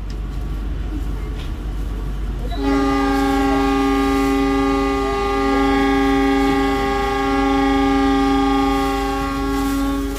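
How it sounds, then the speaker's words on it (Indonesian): Cikuray economy passenger train in an emergency New Generation consist departing at 06:05, its horn blaring loud and sustained after a brief rumbling start, then holding steady over the rolling rail noise for several seconds. "kereta api Cikuray berangkat"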